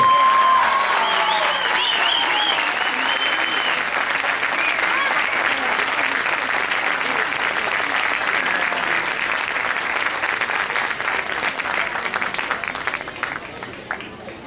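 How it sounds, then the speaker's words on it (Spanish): A gala audience gives a long, dense wave of applause for a group of young performers, loud and sustained for about fourteen seconds, with a few voices and cheers rising in the first moments before the clapping tapers off. "Un aplauso!"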